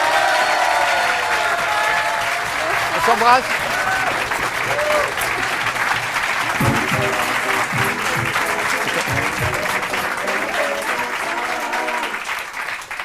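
Warm applause on a French TV-style talk show welcoming a guest singer and performer, continuous crowd clapping at full volume throughout, with a host and guest chatting over it in the second half.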